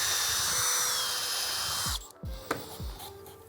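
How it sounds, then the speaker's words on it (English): A power drill fitted with a doweling jig cuts a slot in wood: a loud, steady high whine for about two seconds, then the motor cuts out and a few brief knocks and rattles follow. "allow the flutes of the drill bit to clean that out"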